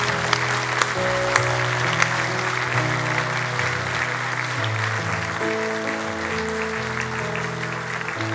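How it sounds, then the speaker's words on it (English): Church congregation applauding, a steady wash of clapping at moderate level with organ-like sustained tones and music playing underneath. "Church, would you applaud them as they go?"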